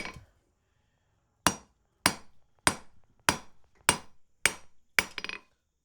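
Steel struck with a hammer on an anvil while forging, seven loud ringing blows at a steady pace of about one every 0.6 seconds after a short quiet start, the last one followed by quick bouncing rebounds.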